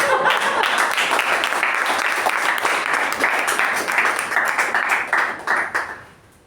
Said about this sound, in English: please give a huge round of applause for Toastmaster of the Day, Toastmaster Apoorva.